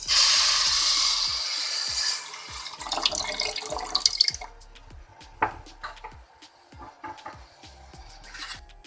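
Water pours and splashes into a container of sugar for a few seconds, making syrup, then scattered drips and small clinks follow, close and fairly quiet.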